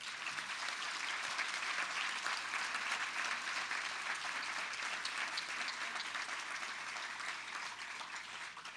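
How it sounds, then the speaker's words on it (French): Audience at a university graduation ceremony applauding, dense sustained clapping from a large crowd that carries on evenly and fades slightly at the end. "On les applaudit, s'il vous plaît."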